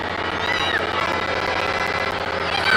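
Stadium crowd at a women's international football final between Nepal and Myanmar, a steady broad roar of clapping and cheering filling the whole stretch, swelling slightly at the end.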